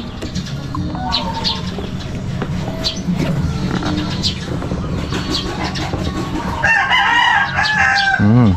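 A rooster crows nearby amid clucking fowl, with a second loud crow rising toward the end over a busy farmyard background.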